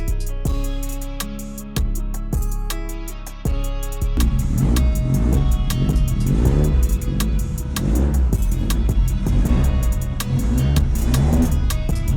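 A race car in an English championship paddock, first a series of sharp hits and clunks while being unloaded, then the engine starts and revs loudly with rising and falling throttle blips, close by.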